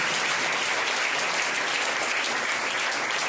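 An audience at a school felicitation event for top-scoring board exam students claps in a dense, steady burst of applause, loud and even throughout.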